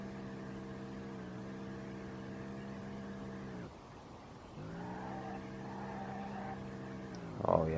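Car sliding sideways in Street Legal Racing Redline, a steady revving engine drone with tire squeal, a brief dip around a gear change, then rising again and ending in a sharper screech.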